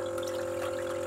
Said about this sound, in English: the pump is quite powerful